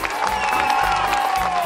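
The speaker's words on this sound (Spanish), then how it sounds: "Aplauso para estos chicos." An audience applauds contestants at an evening plaza show, producing steady, dense clapping and crowd noise throughout, fairly loud, with a sustained tone running underneath.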